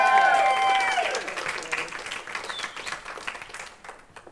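An audience at a stage musical production applauds with scattered cheers over a fading held musical tone, the clapping continuing steadily and slowly tapering off.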